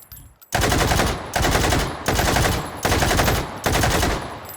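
A VZ58 rifle firing in the VR game Hot Dogs, Horseshoes and Hand Grenades: five loud, sharp automatic bursts in a steady rhythm, each a rapid string of close shots separated by brief gaps.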